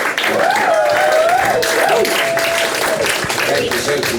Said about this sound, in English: Let's also give another round of applause for Bree Riccio, who wrote and directed